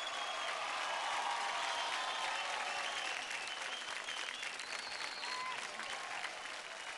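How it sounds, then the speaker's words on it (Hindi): A studio audience on a televised children's dance competition applauds after a performance, a continuous loud crowd clapping that holds steady with faint cheering and a few voices beneath. "कमान गाइस, जोरदार तालियां हो जाए गौरव और सिद्धांत के लिए।"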